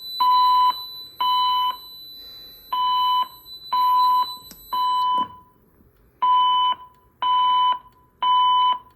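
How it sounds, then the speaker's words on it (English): A Gamewell-FCI E3 fire alarm system sounds its drill signal: a loud, steady electronic tone pulsing in even on-off bursts, eight in all, with a short pause partway through and no talking. "I am going to show the drill function."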